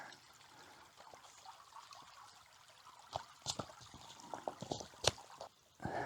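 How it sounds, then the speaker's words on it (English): Water trickling from a moorland stream on Dartmoor into a Cnoc Vecto water bag, with soft gurgling and a few sharper splashes and knocks close by. "Just an easy way to fill up the water like that."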